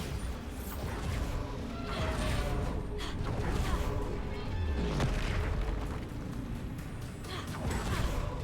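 Bombarda blasting spell cast in the video game Hogwarts Legacy: booming explosive bursts and crashes repeat through a dense, continuous loud battle mix with game effects.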